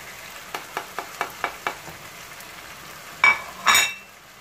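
A utensil stirring spices into chicken meat in a pan, with a series of regular light taps against the pan followed by two louder scraping clinks, close and fairly quiet.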